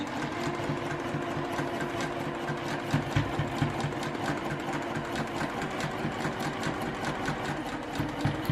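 A sewing machine runs a steady triple stitch along the handles of a reversible tote bag, its rapid even needle clatter close and continuous throughout with no talking.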